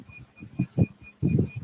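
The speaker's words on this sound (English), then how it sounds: "What is that beeping sound?" Short electronic beeps repeat in an even rhythm, faint and thin, underneath a voice talking.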